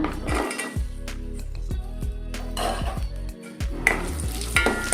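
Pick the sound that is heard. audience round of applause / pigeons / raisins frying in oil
raisins frying in oil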